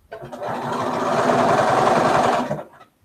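A sewing machine stitches quilt seams in one steady, fast-running burst of about two and a half seconds, close and fairly loud, starting and stopping abruptly with no talk.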